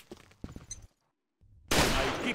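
A sudden loud burst of game gunfire erupts after a brief silence, preceded by softer scattered game sounds.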